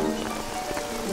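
Steady cartoon rain patters and hisses across a surface in an animated scene, a continuous wash of drops with no voices over it.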